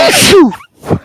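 A single loud, close sneeze bursts out during a tabletop role-playing game session, followed by a brief quieter vocal sound.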